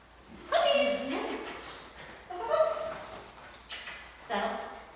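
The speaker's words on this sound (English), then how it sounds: "Puppies!" Excited puppies yip and whimper in repeated high, harmonic bursts, fairly close and moderately loud, with a person's voice mixed in among the yelps.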